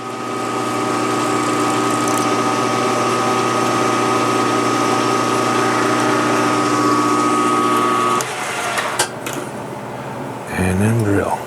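A drill-press spindle hums with a steady, tonal drone while center drilling a hole in a five-cylinder radial engine cylinder head. It runs loud and even for about eight seconds, then winds down into light clanks and handling noise.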